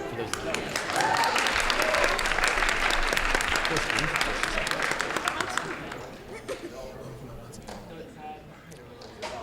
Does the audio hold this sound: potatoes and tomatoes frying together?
no